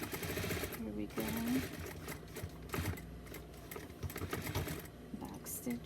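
A sewing machine runs in steady rapid bursts while back stitching a doll bodysuit, its close mechanical chatter continuous throughout with brief pauses in rhythm.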